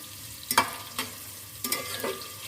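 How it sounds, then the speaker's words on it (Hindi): Onions and cumin seeds fry in a pan with a soft steady sizzle, punctuated by three or four short scraping stirs close by; nobody speaks. "ज़ीरे को भी साथ में प्याज के साथ ही फ्राई कर लेते हैं।"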